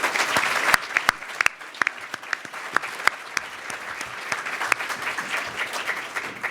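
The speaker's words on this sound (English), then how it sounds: "let's give this panel another round of applause" An audience applauding a panel discussion, a moderate crowd clapping steadily with a few sharp, close individual claps standing out above the even wash of hands.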